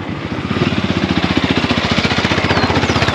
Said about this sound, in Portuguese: Vai passar uma moto agora.